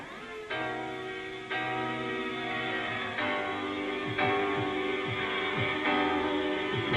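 A 1994 jungle track built on sampled soul vocals, with sustained harmonic vocal and pad layers that shift in sections about every second over a steady bed, playing alone at moderate level.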